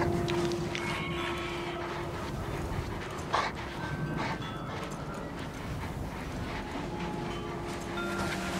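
A dog pants steadily and close by in Mad Max, its quick breaths running under rumbling engine and road noise throughout.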